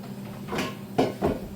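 An air fryer's plastic basket of potatoes scrapes and clunks as it slides out, with a couple of short knocks and rattles close by in a quiet kitchen.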